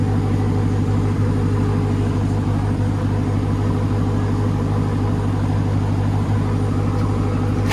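A 2021 Dodge Durango Hellcat with mid muffler delete and Dynomax race bullet exhaust idles steadily nearby, a loud continuous deep rumble without revving.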